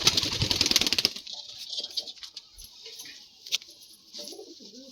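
Black-grained pigeons in a pigeon house, with a burst of rapid pulsing coos at the start, then softer scattered cooing and faint rustling.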